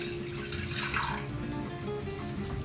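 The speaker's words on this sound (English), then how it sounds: "Now the broth goes back to the pot" Broth for Japanese New Year's mochi soup (ozoni) being poured back into a pot, a steady liquid splash and trickle running continuously and close by, with no talking.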